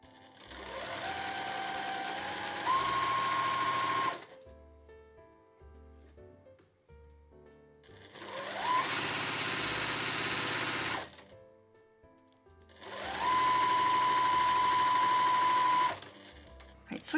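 A sewing machine stitches along a drawn line on blouse fabric in three sustained runs of a few seconds each, its motor whirring steadily between short quiet pauses.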